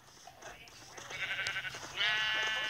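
Several Minecraft sheep bleat in overlapping, wavering cries, growing louder toward the end with one long nasal bleat.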